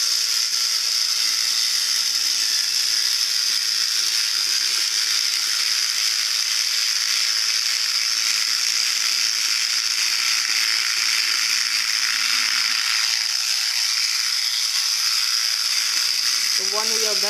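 A small Artec Robotist robot runs its gear mechanism in a loud, continuous high-pitched whine and grinding buzz, steady and close throughout.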